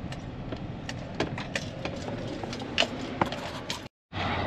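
An old, battered farm tractor runs in a field during wheat planting, its engine chugging steadily up close with scattered clicks and knocks, then cutting out briefly before resuming.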